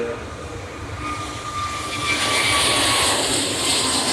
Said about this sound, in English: Starting to take off run. And again, very quiet indeed. Expecting a steep takeoff, climbing turn.